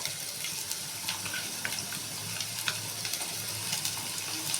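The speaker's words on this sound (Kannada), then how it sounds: "ಬೆಳ್ಳುಳ್ಳಿ, ಈರುಳ್ಳಿ ಎಲ್ಲ ಫ್ರೈ ಮಾಡ್ಕೊಳ್ಳೋಣ." Garlic and onion sizzle and crackle steadily in hot oil for a mutton dish, a soft, continuous frying hiss with scattered pops, quiet and close, with no voices.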